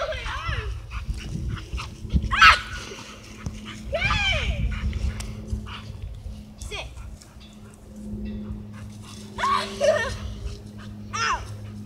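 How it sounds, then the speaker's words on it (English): A dog bites its owner, snarling and yelping with short whimpers in bursts, close by, mixed with people's shouting and speech. "You're getting bit by your own dog."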